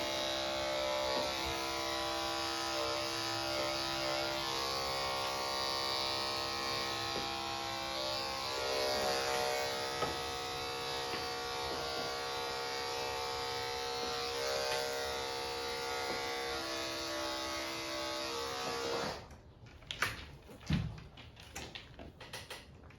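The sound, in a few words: trimming a long-haired dachshund's ears with electric clippers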